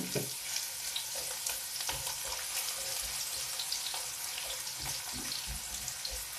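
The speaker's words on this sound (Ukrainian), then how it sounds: "я викидаю поки що цибульку сюди і буду смажити злегка так підсмажу" Onion sizzling and crackling in hot oil, a dense continuous frying hiss with occasional stirring scrapes, close and fairly loud, no voices.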